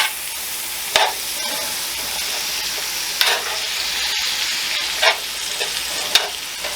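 Steak and baby bella mushrooms sizzle steadily in a hot pan, a loud continuous fry broken by a few sharp stirring scrapes and spatters.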